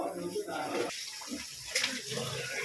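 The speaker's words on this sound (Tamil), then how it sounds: "ரெண்டு வாட்டி கழுவுனா போதில்ல மூணு அரிசி கழுவுறாங்க பாருங்க" Rice being washed in water in a vessel for ghee rice, with sloshing and trickling water close by under faint background noise.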